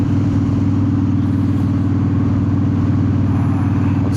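A car fitted with an underdrive pulley cruises near 70 mph at about 2900 RPM, a loud, steady engine drone with road rumble that holds even and close throughout, with no talking.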